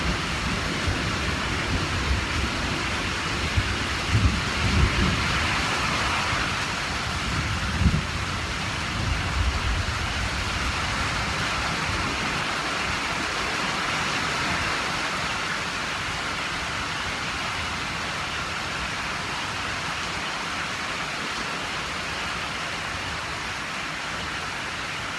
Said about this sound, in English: storms don't last forever because eventually this will stop.